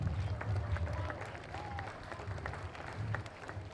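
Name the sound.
crowd applause for a lap of honour at a horse show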